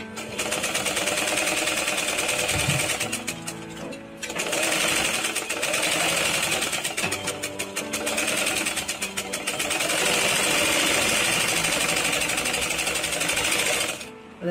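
A sewing machine runs in long, rapid rattling bursts, topstitching a seam with matching thread, with a brief pause between runs and faint voices in the background.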